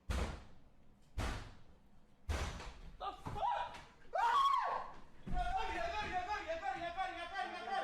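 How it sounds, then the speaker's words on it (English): Several loud, heavy bangs strike a door in quick succession, followed by thuds, scraping and raised voices and commotion in a room. "Then there are some really loud bangs at the door."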